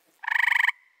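An Eastern gray tree frog in Somerset County, Pennsylvania gives one short, loud musical trill of rapid pulses, close and clear against a quiet night background.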